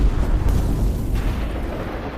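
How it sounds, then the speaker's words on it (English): An artillery strike hits a tank, a heavy, low rumbling explosion that booms at the start and rolls on as a dense, sustained roar, loud and close, fading slowly. "One tank is hit directly."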